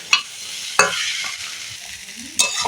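Flattened rice (poha) is stirred in a hot pan, three sharp scraping strokes of the spatula over a steady soft sizzle, close and clear.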